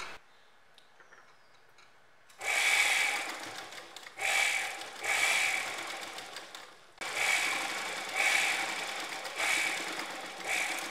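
A sewing machine stitches kurta panels together in two long runs of steady mechanical whirring, each broken by short pauses, close and fairly loud after a quiet start.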